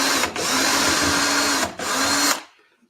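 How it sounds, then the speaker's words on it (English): A power drill whirs loudly in two sustained bursts with a brief pause between, then winds down to silence. "Did you all see how I checked underneath there before I started drilling?"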